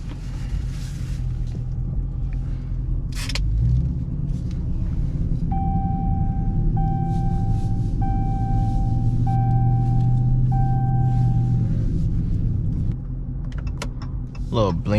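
A 2021 Dodge Charger Scat Pack drives along, its engine a steady low rumble inside the cabin, with a rhythmic ticking chime partway through and faint talk from the driver.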